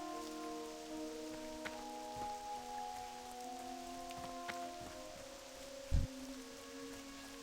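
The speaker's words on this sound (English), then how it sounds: "it's raining" Soft, steady rain patters in World of Warcraft Classic, faint and continuous, with gentle ambient game tones sustained beneath it and a single brief thump near the end.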